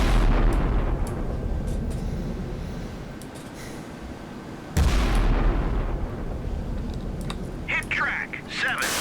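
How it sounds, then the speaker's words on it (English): 11-inch naval guns firing from the German battleships Scharnhorst and Gneisenau in the Sea Power video game: a heavy, loud blast strikes midway through a rumbling, roaring background, with more scattered cracks and crackles afterward. "More 11-inch rounds going out."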